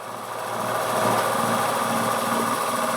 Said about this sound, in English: So I'm just milling out the center